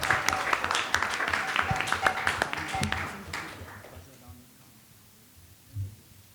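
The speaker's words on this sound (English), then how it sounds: "Let's give all of them a round of applause." Audience applause at a youth quiz competition, a burst of clapping that fades out after about four seconds, followed by near quiet with a faint thump.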